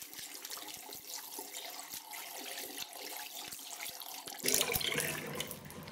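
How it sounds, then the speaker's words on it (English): Hands rinsed under a running tap after handling shaving soap, a faint steady water stream with small splashes that swells into a louder, fuller rush near the end. "I'm just going to rinse my hands off now"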